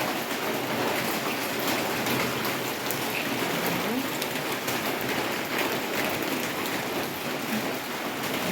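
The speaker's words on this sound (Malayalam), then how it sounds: "നല്ല മഴയാണ് ഫ്രണ്ട്സ്" Heavy rain pours down in a dense, steady hiss that holds at an even level throughout, with no voices over it.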